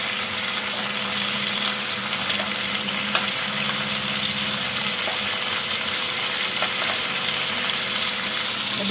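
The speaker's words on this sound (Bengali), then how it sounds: "চিংড়িগুলোকে ভেজে নিচ্ছি" Large prawns for malai curry fry steadily in a pan, giving a continuous loud sizzle and crackle that holds even for the whole stretch with no voices.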